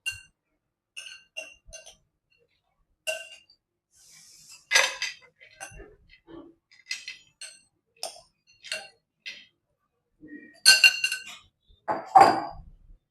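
Green bhel served onto a dish: scattered light clinks and taps of a spoon against a plate, separate and irregular, with quiet gaps between them.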